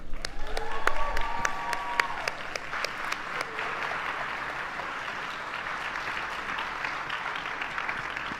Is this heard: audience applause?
yes